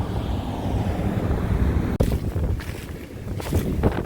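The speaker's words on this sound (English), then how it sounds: "It's still windy as hell." Strong wind gusting past the microphone near a wooded area, a loud continuous roaring rumble that briefly cuts out, then returns with breathy rushes and flutters.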